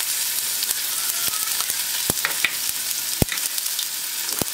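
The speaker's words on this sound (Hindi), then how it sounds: "और हल्का सा भून देती हूँ।" Freshly crushed ginger and garlic fry in hot oil with cumin and fennel seeds for a sweet and sour bitter gourd dish, giving a constant close sizzle punctuated by sharp pops and stirring clicks.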